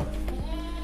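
Four-month-old male Kaligesing goat gives a short, faint bleat amid a noisy farm pen background with steady hum.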